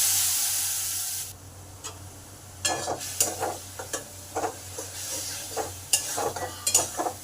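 Spice paste frying in a pan with bay leaf and torn chilies: an initial steady hiss gives way to repeated scraping stirs over a crackling sizzle, close and moderately loud, with no speech.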